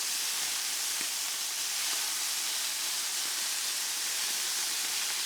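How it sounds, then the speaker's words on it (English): Pork chops sizzle in a large 14-inch ScanPan, a steady, even hiss of frying that stays constant and fairly loud throughout, with no talking. "And while I flip my pork chops, as you can see, I'm cooking them."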